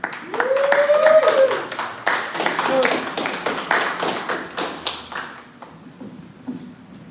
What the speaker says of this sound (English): I'd like to make sure that we get a big round of applause